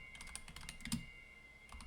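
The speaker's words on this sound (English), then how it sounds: "he's typing." Quick, irregular keystrokes on a computer keyboard clatter in short bursts, close and quiet, over a faint steady electronic whine.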